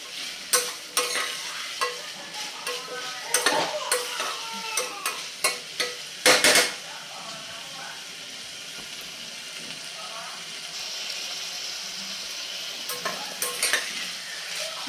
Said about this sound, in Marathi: एक साधारण 2 ते 3 मिनिटे आपण हे छान परतून घेऊया